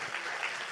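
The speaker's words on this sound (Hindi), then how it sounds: "ताली बजा के प्रभु को धन्यवाद दीजिए।" Church congregation applauding at a youth camp session, a dense burst of clapping heard briefly and alone.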